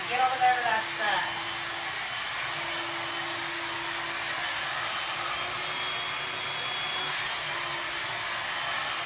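A blow dryer runs steadily, close and loud, with a constant whooshing hum while long layered hair is round brushed. A brief voice is heard at the very start.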